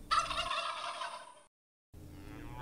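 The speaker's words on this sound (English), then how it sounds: "Turkey." Turkey gobbling loud and close, a rapid rattling call lasting over a second, then a short silence and a fainter continuation.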